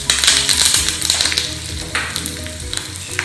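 Curry leaves dropped into a pan of frying onions for a sole fish curry sizzle loudly and continuously, with a crackling hiss close by and no talk.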